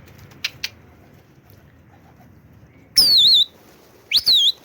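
Two loud, warbling whistles, each rising and then wavering, are blown close by to rouse resting pigeons, after a couple of soft taps in a quiet setting.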